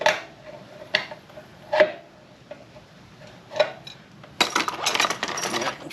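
Gasoline drips from a drained 1989 Harley-Davidson Sportster bobber fuel tank into a metal drip pan, landing as sparse, sharp, ringing ticks at irregular intervals, followed by a louder, busier clatter of handling near the end.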